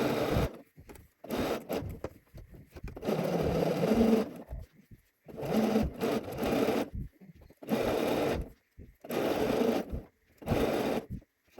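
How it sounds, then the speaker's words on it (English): A sewing machine stitches a dress sleeve seam in several separate bursts, each a few seconds of close, even whirring divided by short pauses, with one longer run near the start. "so let's sew this seam"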